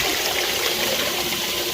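Water drains in a continuous broad rushing hiss, steady and fairly close, with no voices over it.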